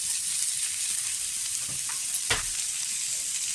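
Ground spices frying in a pan with jackfruit for an egg curry, giving a steady sizzle with a few scraping stirs, one sharper scrape near the end, no voices.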